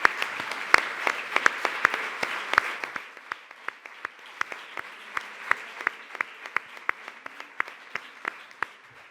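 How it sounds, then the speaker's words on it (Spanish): Audience applause after a speaker at a congress calls for it, steady clapping from a hall crowd over about nine seconds with sharp individual claps standing out, loud at first and then thinning slightly. "yo quiero un aplauso para ella"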